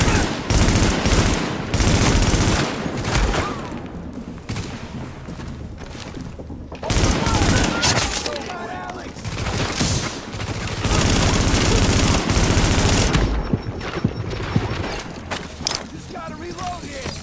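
Rapid gunfire bursts and booms from the video game The Division, played on a GTX 1050 Ti Acer Nitro 5 laptop at ultra settings, loud and dense throughout with short pauses, mixed with in-game voices.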